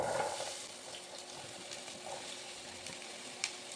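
A steady, hissing sizzle of vegetables frying in olive oil fills the background, even and fairly quiet throughout.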